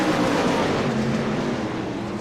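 Several 410 sprint race cars accelerate hard during a feature race, a dense, continuous engine roar held at steady high loudness throughout.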